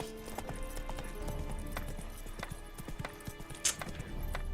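Roach the horse's hooves clip-clop steadily and fairly faintly in The Witcher 3: Wild Hunt, with brief bright game sounds scattered over the rhythm.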